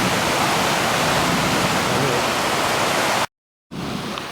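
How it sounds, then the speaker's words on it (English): Water gushes along a backcountry trail in Virginia during a thunderstorm, making a loud, steady, close roar that fills the clip until a brief cut of silence near the end. "That gushing water is just from this thunderstorm that we are"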